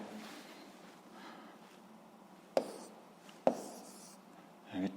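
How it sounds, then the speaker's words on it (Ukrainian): Pen or pencil scratching out an answer to a seventh-grade physics problem, a soft continuous rasp with a couple of sharp taps near the end, quiet and close, alone without speech. "Записуємо відповідь тоді."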